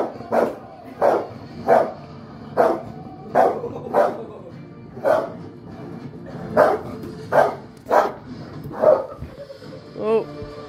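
A dog barks over and over in a steady rhythm, about a dozen loud, close barks ending in a higher yip, with a person's voice faintly underneath.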